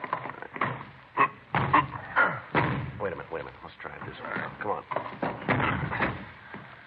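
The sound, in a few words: door being forced open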